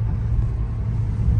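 A car drives along a coastal road in Mumbai at around 60, its steady low engine and road rumble filling the cabin continuously, with no talk.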